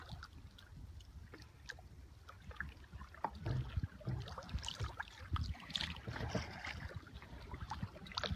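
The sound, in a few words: double-person kayak paddling through an Alaskan bay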